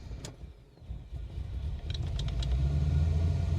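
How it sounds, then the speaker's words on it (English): A BMW E46 wagon swapped to an LS V8 on the move, with a low engine rumble swelling steadily and growing louder toward the end alongside faint cabin rattles. "So today it's running on all 8. All American 8 cylinders."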